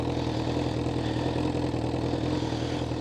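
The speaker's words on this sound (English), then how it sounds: "we'll give it a little rev and see what you think" A Honda CBR1000RR motorcycle engine runs with a steady, dense rumble, close and loud, with no clear rise in revs and no talk.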